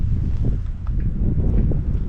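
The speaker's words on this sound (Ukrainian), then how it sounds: "Я вибачаюсь за оцей вітер, ну просто без варіантів." Strong wind buffets the microphone on an open winter riverbank, producing continuous low rumbling and gusty blasts with no other clear sounds.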